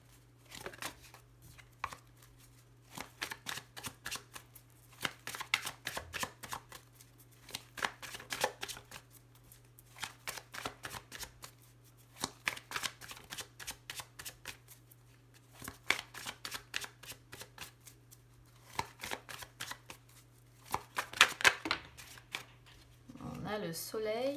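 A deck of tarot cards is shuffled and cut close up, with repeated bursts of riffling and flicking cards in an irregular rhythm across the whole stretch and brief pauses between bursts.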